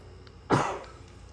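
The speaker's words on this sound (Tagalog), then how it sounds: "Sorry, inuubo ako." One short, close cough bursts out alone in a quiet room and fades quickly.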